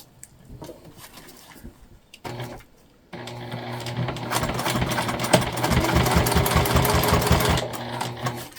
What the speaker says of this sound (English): And then we're going to top stitch.